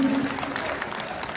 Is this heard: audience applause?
yes